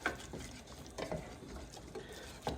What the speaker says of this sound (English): Just mix that through.